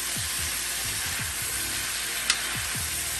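Eggs fry in a home kitchen pan beside sausage and potatoes, giving a steady soft sizzle with small repeated scraping or stirring sounds and one brief click, and no voice.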